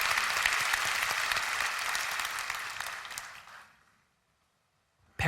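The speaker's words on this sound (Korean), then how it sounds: "하나님께 영광의 박수를 올려드리겠습니다." An audience claps together at a Christian prayer gathering, a dense, steady wash of applause that fades out and ends in silence, with a brief knock at the very end.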